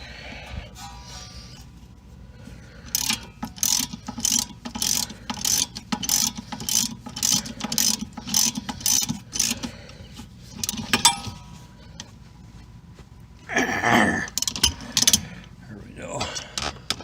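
A ratchet wrench turns a 17 mm nut on the rear brakes of a 2010 Ford Fusion, giving close, rapid clicking in repeated short bursts with brief pauses and a later cluster.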